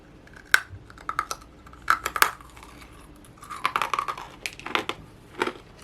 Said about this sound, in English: You got to hear the crunch effect.